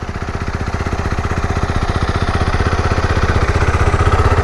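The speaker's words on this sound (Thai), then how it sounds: "ตัวนี้ก็จะเป็นเสียงรอบเครื่องเดินเบาของตัวรถนะครับ" A Zontes R310 motorcycle engine idles steadily up close, its low, even putter holding a fast regular rhythm that swells slightly louder toward the end.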